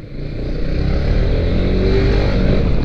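A modified Yamaha XMAX motor scooter is ridden at speed, its engine a loud, close, continuous drone that builds slightly in the first second and then holds steady.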